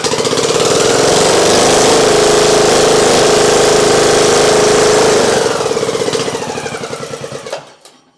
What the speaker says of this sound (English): All right, there's idle, so it is idling.